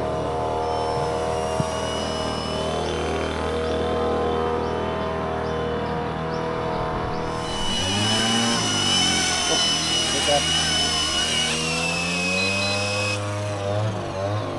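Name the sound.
RC model helicopter flying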